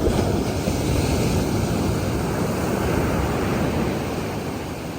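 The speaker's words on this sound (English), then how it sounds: "you can hear the sounds of the ocean" Ocean surf at Disney's Vero Beach Resort: a continuous, broad wash of waves with some wind, steady and fairly loud, fading slightly toward the end, with no voices.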